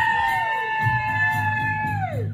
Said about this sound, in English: Everybody who doesn't have a birthday tonight, scream.